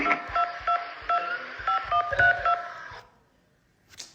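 Phone keypad tones dialed in a quick run of short beeps for about three seconds, close and clear, followed by quiet and one faint closing blip.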